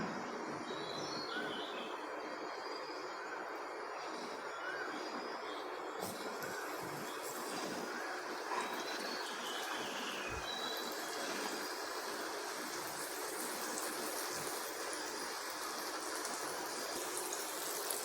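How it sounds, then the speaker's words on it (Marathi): Flour-coated rani fish (pink perch) frying in hot oil in a pan over a medium gas flame, a steady dense sizzle and crackle running evenly throughout with no talk over it. "तेलामध्ये टाकून घ्यायची आहे आणि गॅसचा फ्लेम मिडियम करून चांगली फ्राय करून घ्यायची"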